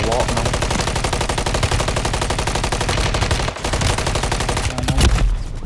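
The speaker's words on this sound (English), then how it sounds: "There's people shooting from decom." Rapid, loud machine-gun and rifle fire in a Call of Duty match, a dense rattling stream of shots nearly unbroken for several seconds, with a brief lull near the end.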